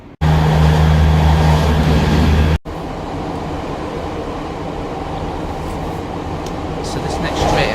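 A passenger train on a railway line between Bradford and Halifax rumbles steadily, a loud low drone that cuts briefly then continues as constant rolling noise from inside the carriage.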